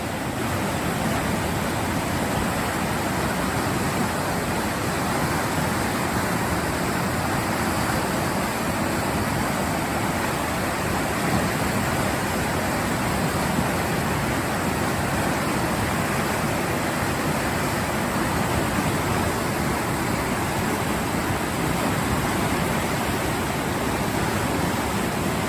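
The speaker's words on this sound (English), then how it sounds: "This was flooding." Floodwater rushing past a lodge where a small stream usually flows under a bridge, a dense, unbroken roar holding steady and loud throughout, with no one speaking.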